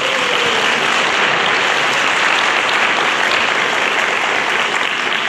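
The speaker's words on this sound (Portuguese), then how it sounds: "pode aplaudir." A church audience applauds after a Lent sermon by a friar, dense steady clapping that fills the space loud and even throughout, with no gaps and no talk over it.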